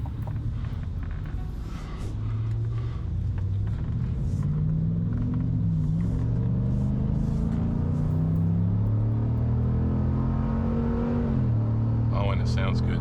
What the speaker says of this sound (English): we'll give it the business a little bit when I'm pulling out here so you can pick up the acceleration